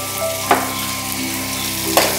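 Chunks of elephant foot yam sauté in a hot pan with a steady, close sizzle, broken by two sharp clanks of a spoon against the pan, one near the start and one near the end.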